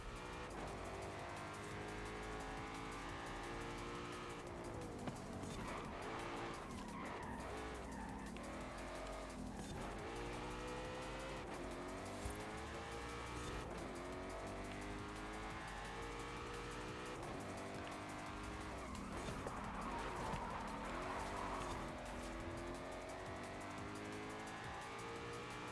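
A Ford Mustang races in Forza Horizon 5, its engine note rising and falling through gear changes with tire squeals and skids, continuous and fairly close throughout with no talk.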